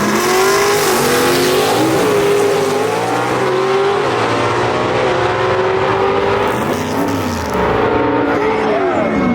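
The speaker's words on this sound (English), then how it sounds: "He's going against the man that's their two-time champion in Superstock out of Kannapolis, North Carolina, Rick Varn" Gasser drag race cars roar down the strip at Shadyside Dragway, loud engines revving hard with rising and shifting pitch, a continuous close blast of racing exhaust.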